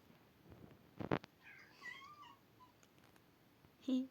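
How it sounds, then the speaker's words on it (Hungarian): A cat meows faintly in the background of a quiet room, a couple of soft mewing calls rising and falling, with a brief clatter before them and a short louder noise at the end. "Cica"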